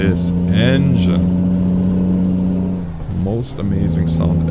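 A truck engine in Euro Truck Simulator 2 humming loudly and steadily with pitch sweeps as it revs, overlaid by a close voice talking.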